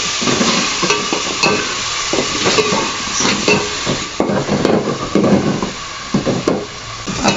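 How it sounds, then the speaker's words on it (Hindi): Onions frying in oil or ghee for shalgam gosht (turnip and meat curry), with a steady close sizzle and repeated stirring scrapes running the whole time. No voices. "इसमें ये फ्राई होना चाहिए प्याज अच्छी तरह से भूनेंगे।"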